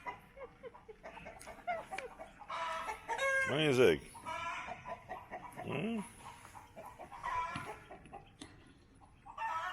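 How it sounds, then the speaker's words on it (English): Chickens clucking at an old mill with a water wheel, a few louder squawking calls among scattered clucks at moderate distance, with a person briefly speaking quietly to a dog. "Ziggy's interested in these chickens."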